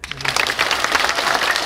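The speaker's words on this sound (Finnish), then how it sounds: "Aplodit!" An audience at a Finnish egg market event bursts into dense, loud applause, a continuous wash of clapping hands close by.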